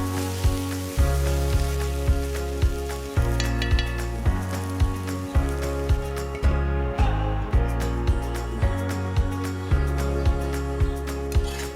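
Potato pieces (aloo) frying in oil in a pan, a steady sizzle running throughout with a regular pulsing rhythm of stirring or scraping over it, loud and close with no talking.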